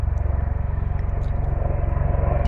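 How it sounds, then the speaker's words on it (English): A helicopter passes overhead, its rotor throbbing in a rapid, even low pulse that stays steady and moderately loud for the whole few seconds, with no voices. "there's a helicopter going over."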